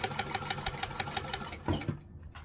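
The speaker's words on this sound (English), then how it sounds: "I'm just going to chain stitch it right on in there." A sewing machine chain-stitches a line of topstitching on fabric, a close steady rapid whir of needle strokes running for about two seconds before stopping abruptly, with no talking.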